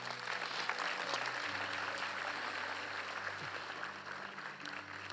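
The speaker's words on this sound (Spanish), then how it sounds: "Dale un aplauso al Señor." Church congregation applauding at an Ecuadorian service, a steady sustained clapping that fills the room, with a low organ or keyboard drone underneath and no speech.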